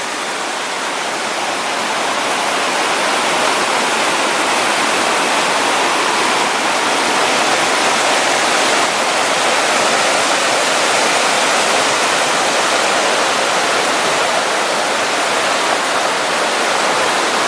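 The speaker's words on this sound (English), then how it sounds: "Nice spot overlooking the river, or creek I mean." Creek water rushes steadily near the old Gaston Mine, a loud, close, continuous roar of flowing water with no breaks and no voices.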